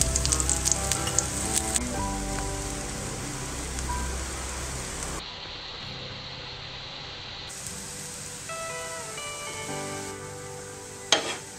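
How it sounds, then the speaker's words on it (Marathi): A thalipith flatbread sizzles and fries in oil on a pan, a steady close hiss throughout with a brief quieter stretch midway and a small clatter near the end, with no talking. "मी थोडंसं तेल घालतो परत, म्हणजे आपल्या दुसऱ्या बाजूने पण थालीपीठ छान शेकलं जाईल।"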